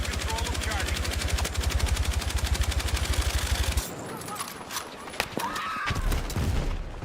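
Rapid automatic gunfire and sniper shots in a first-person shooter video game, a steady rattling burst for several seconds followed by sparser sharp cracks, with voices talking underneath.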